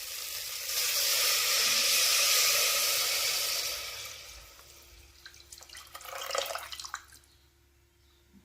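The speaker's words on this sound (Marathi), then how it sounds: "ह्याच्यामध्ये आता आपण गॅस मोठा करून पाणी घालूया." Water is poured into a hot pan of frying rice for pulao, the gas turned high, letting out a loud sizzling rush that gradually fades. A few brief clinks and splashes follow near the end.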